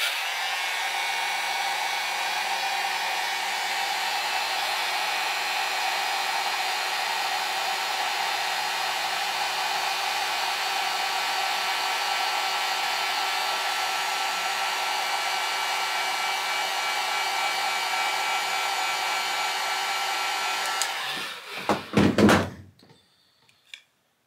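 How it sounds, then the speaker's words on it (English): A heat gun blows steadily and loudly while warming a thumb ramp on the back of a knife sheath for a mini EDC cleaver, a constant hot-air roar that cuts off near the end with a brief knock. "We're just gonna use a heat gun, heat it up, and press it forward."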